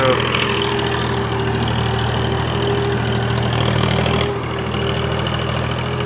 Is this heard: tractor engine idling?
yes